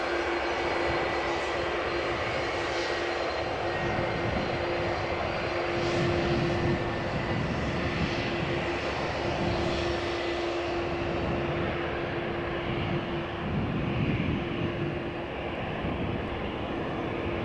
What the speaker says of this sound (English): Delta Airlines flight 143 A330-300 will be going to Seattle